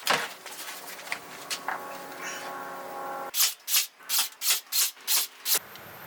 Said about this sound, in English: I prepped the aluminum with coarse grit sanding and cleaning.